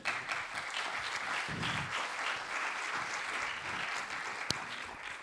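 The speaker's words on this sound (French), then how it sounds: "On peut les applaudir." Audience applause at a conference on the sugar beet industry's low-carbon transition, a steady, full burst of many people clapping together, close and sustained throughout, easing off slightly at the end.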